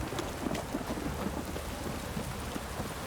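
Steady rain pattering with a deep rumble of thunder underneath in the video game The Witcher 3: Wild Hunt, dense and continuous throughout with no voices.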